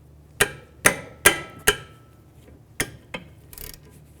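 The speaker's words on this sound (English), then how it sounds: "Now I'm going to remove these two caliper bolts." Rear brake caliper bolts on a 2010-2017 Chevrolet Equinox being loosened with a 14mm socket: four sharp metallic knocks in quick succession, then a few softer clicks, close and otherwise quiet.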